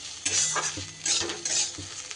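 Bitter gourd frying with spices in a pan, a utensil stirring and scraping it in three or four rhythmic strokes over a steady close sizzle, with no talking.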